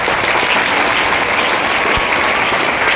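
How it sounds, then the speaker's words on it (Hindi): A crowd at a business plan presentation in Kandivali bursts into loud, dense, continuous applause that holds steady from start to finish. "आपके लिए जोरदार ताली हो जाए"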